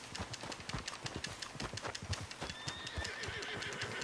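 A horse in the Red Dead Redemption 2 video game gallops with rapid, rhythmic clip-clop hoofbeats close by, then lets out a whinny near the end as the pace eases.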